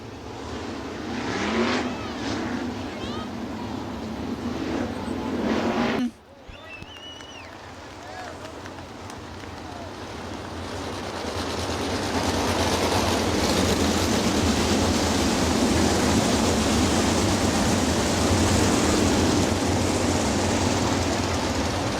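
A field of 20 410 sprint cars rolls in formation at Hartford Speedway Park, a dense, steady engine roar that drops briefly and then swells louder and fuller, with a commentator's voice over it.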